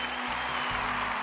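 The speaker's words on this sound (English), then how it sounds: "Let's give her a round of applause." Applause for a student being honored at a school ceremony, a steady wash of clapping from an audience held at an even level through the brief moment with no voices over it.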